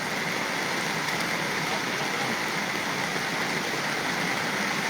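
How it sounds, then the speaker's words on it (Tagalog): Heavy tropical rain pours down steadily during cast net fishing, a dense, loud, unbroken hiss that fills the whole stretch. "Grabe, lakas ng ulan."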